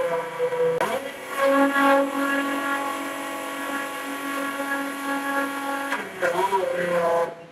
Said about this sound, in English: Click Switch to turn on the refueling gun.